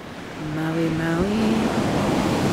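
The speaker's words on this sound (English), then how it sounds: "These waves are like super crazy right now." Rough ocean surf rolls onto a beach in Maui, Hawaii, a broad roar that swells louder mixed with wind noise, while a voice is heard briefly over it.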